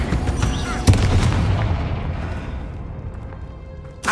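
A Confringo spell explosion in Hogwarts Legacy hits with a sharp, loud boom near the one-second mark, then a long rumbling decay fades away before a second burst starts right at the end.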